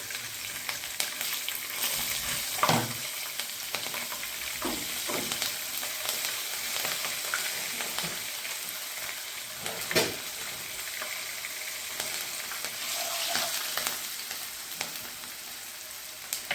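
Mustard seeds, cumin, curry leaves and green chili sizzle steadily in hot oil for a Gujarati cabbage and pea dish, with a constant crackling hiss and a few sharper spits and stirring scrapes, close and alone.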